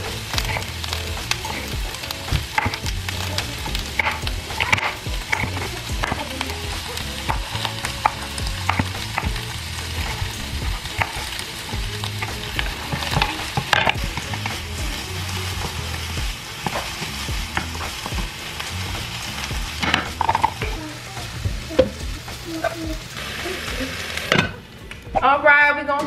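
Peppers and onions frying in a pan for chicken tacos, a continuous close sizzle broken by frequent stirring scrapes and utensil knocks, with a brief clatter near the end and no clear speech.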